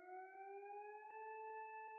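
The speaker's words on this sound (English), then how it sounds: "Sounds like an alarm." A fire alarm in a music video sounds as a faint, continuous electronic tone that rises slightly in pitch over about two seconds, with a few soft pulses in the background.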